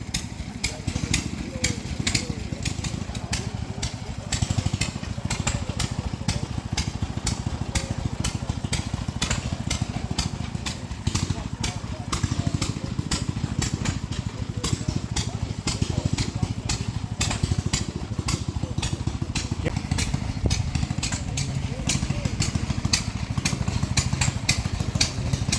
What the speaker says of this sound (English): It's got an Indian V-twin engine on it.